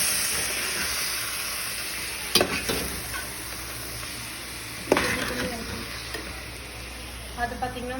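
Chicken frying in a pan with tomatoes for dum chicken biryani, a steady close sizzle and hiss broken by a few sharp clanks of stirring against the pot, with some faint talk underneath.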